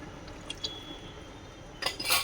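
Water goes into a thickening cornflour gravy for paneer soya chilli: a quiet kitchen background, then a short burst of splashing and a light clink near the end.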